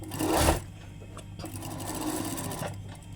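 Close, continuous whirring and rapid needle clatter of a sewing machine stitching a Shanghai-style koko shirt collar, with a slightly louder surge at the start.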